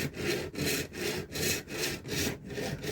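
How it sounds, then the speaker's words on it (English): A standard 24 TPI senior hacksaw blade cuts through a 3D-printed Mandalorian helmet in steady back-and-forth strokes, about seven rasping passes in three seconds, close and loud with no talk. "now this is just a standard 24 TPI hacksaw blade."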